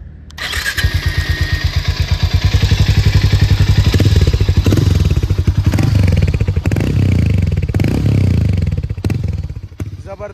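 A Harley-Davidson X440 motorcycle with its stock exhaust cranks and fires up, then runs with a loud, close, steady thumping single-cylinder beat, rising briefly with throttle before settling back toward idle.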